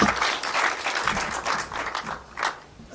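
An audience at a polytechnic press briefing claps, a moderate patter of hand claps at middle distance that swells and eases in uneven waves.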